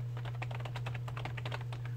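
Quick, fairly faint clicking of keys on a computer keyboard as a web address is typed, a steady run of light taps spread across the whole stretch with a constant low hum underneath.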